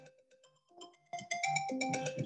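A phone ringtone chimes during a hatha yoga class, starting as soft tinkling notes and then jumping louder into a bright repeating melody, heard alone without talk.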